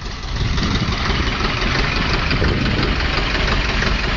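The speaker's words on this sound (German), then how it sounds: "Treckertreffen bei Willi auf dem Hof." A tractor engine idles at a tractor meet on a farmyard, a steady, loud, rough rumble with knocking texture that runs unbroken and alone throughout.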